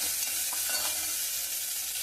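Dried red chillies, curry leaves and coriander fry in a pan for mint chutney, giving a steady, continuous sizzle with faint stirring scrapes throughout and no voices.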